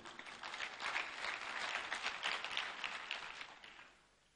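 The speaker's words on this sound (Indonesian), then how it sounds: "Tepuk tangan untuk itu." An audience at an anti-corruption university seminar breaks into applause, a full and steady round of many people clapping that swells briefly and then tapers off quickly near the end.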